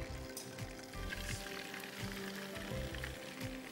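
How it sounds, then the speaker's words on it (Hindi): Chicken pieces frying in oil for Balochi karahi make a soft, continuous sizzle with faint crackling and irregular low bumps, fairly quiet and steady throughout. "अब हम चिकन डाल लेते हैं थोड़ा सा चुगला हल्का करके।"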